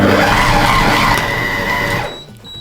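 A Compact Cook food processor runs at speed 4, blending fish terrine ingredients with a loud steady whirring drone that stops abruptly near the end, leaving a faint high beep.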